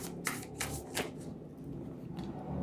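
Tarot cards being shuffled by hand, a few soft, quick riffling bursts close up and quiet, with pauses between them.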